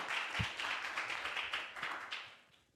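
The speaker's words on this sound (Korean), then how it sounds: "우리 박수를 한 마디 할까요?" Brief applause from an audience at a university lecture on next-generation lithium secondary batteries, a dense patter of clapping that tapers off after a couple of seconds.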